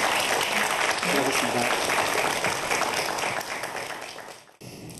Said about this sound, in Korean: 재밌는 말씀 해주신 우리 최영욱 대표님께 박수 보내드리도록 하겠습니다.